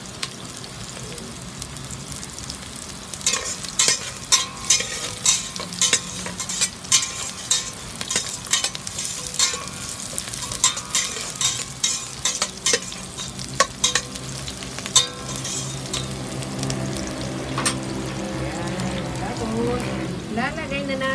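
Food frying in a pan is stirred, giving a steady crackling sizzle broken by frequent sharp scraping stirs, close and fairly loud throughout, with speech over it.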